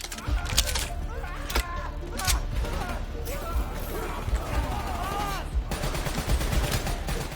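Light machine gun fire in the video game Black Ops III, repeated bursts of shots and crashing impacts over dense game background noise, with a voice talking at times.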